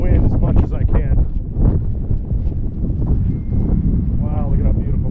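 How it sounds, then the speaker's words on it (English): Strong wind buffeting a handheld camera microphone on a white sand beach on the Florida National Scenic Trail, loud continuous rumbling gusts with a person talking faintly beneath. "I'm trying to hold the camera out of the wind as much as I can."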